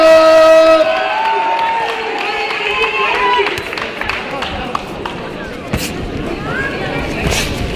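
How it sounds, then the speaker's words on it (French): Audience applause and cheering at a boxing gala in Les Sables-d'Olonne, a steady wash of clapping and crowd noise heard under an announcer's voice and ringside talk, moderately loud throughout. "Première reprise sous vos applaudissements, mesdames et messieurs."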